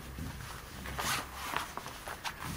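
Zipper on an NGT single rod sleeve for a fishing rod being drawn open or shut, a few close rasping zip strokes over a couple of seconds, no talk.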